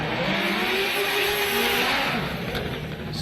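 Roush Performance Ford Mustang drift car at Formula Drift Long Beach, a loud engine roaring and blipping with revs rising and falling close by, heard alone.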